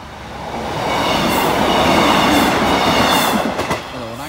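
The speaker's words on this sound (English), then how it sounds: "Here's train one." A Greater Anglia passenger train arrives at a station, its rumble swelling and holding loud and close, with rail clatter and a faint wheel squeal near the end.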